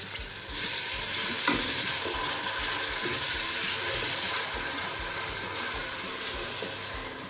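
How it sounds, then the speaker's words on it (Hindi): Onion paste fries in oil for paya, a continuous close sizzle with low rhythmic scraping of a spoon stirring the pan throughout. "अच्छे से मिक्स करेंगे और प्याज को जो है वो हम 5 से 6 मिनट भूनेंगे"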